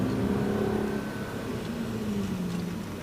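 A Mercedes-AMG car drives steadily while its tyres hum, a low droning road tone with engine whir, continuous and moderately quiet from inside the cabin.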